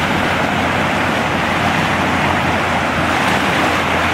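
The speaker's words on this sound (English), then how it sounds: "I mean, them rapids are something else right there." Rapids after a flash flood rush over rocks beside a campground, heard as a loud, steady, broadband roar of churning water that never lets up, with no voices.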